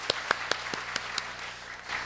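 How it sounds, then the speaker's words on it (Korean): A few sparse, separate handclaps in a church hall during a mothers' prayer meeting welcoming a pastor, about eight distinct claps spaced out over two seconds, faint and echoing. "이제 나오실 때 큰 박수로 환영해 주시기 바랍니다."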